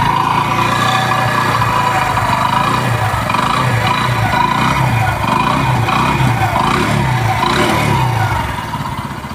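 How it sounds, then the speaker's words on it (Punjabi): A repaired motorcycle engine, just fully rebuilt, runs close by in a workshop with a loud, steady idle that holds evenly throughout, then eases slightly at the very end. "ਆਪਾਂ ਤੁਹਾਨੂੰ ਇੰਜਨ ਦਾ ਸਾਊਂਡ ਦਿਖਾ ਰਹੇ ਹਾਂ ਸੁਣਾ ਰਹੇ ਹਾਂ ਜੀ"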